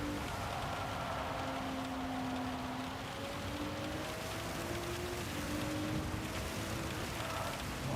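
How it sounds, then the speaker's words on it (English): Steady rain hiss in the Spa circuit during a Gran Turismo 7 race, a dense continuous wash with a low engine drone and faint tonal hum running underneath throughout. "When it rains at Spa, it rains."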